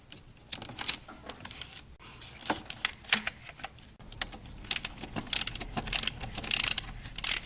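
Ratchet working a bolt loose on the alternator of a Chevrolet Blazer, giving irregular bursts of close metallic clicking over a low background hum, with no talk.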